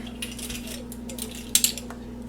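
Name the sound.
spoon stirring nutmeg into apple butter in a pot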